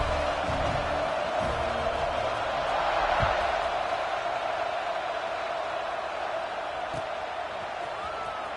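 Football stadium crowd during a kickoff after a scoring drive in a close game, a steady roar of cheering that holds loud and even throughout with no clear break.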